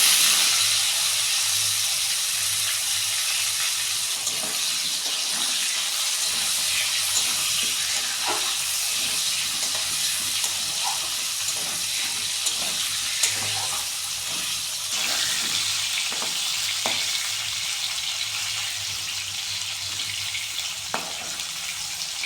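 Potatoes fry in hot oil in a wok (kadai), giving a steady, close, loud sizzling hiss with scattered small pops and crackles that runs unbroken throughout.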